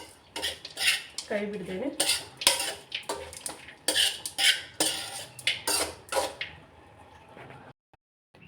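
Mango chitranna rice is mixed in a bowl, with repeated clinking scrapes of a utensil against the vessel in an irregular rhythm, close and clear, before falling quiet. A brief spoken phrase is heard near the start.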